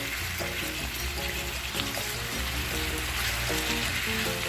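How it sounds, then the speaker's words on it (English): Carne asada sizzles and fries in a pan over high heat, a loud, steady crackling hiss with occasional pops and stirring sounds, close by and without speech. "we got everything in the pan, and I have it on a high heat now. And we're just gonna cook it up."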